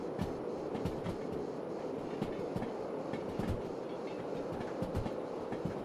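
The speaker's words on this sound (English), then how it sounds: "the loco has the high-pitch turbine sound" Freight train hauled by three DE6 diesel locomotives with slugs and 164 wagons running at full power, a steady rumbling roar with a high-pitched turbine whine and rhythmic clickety-clack of wheels over rail joints throughout.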